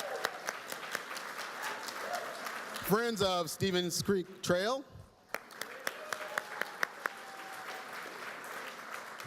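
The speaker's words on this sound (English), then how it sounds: "give them a round of applause" Audience at a Mountain View leaders celebration applauding nonprofit organisations, with steady scattered clapping running underneath as a man on a microphone reads out a name partway through.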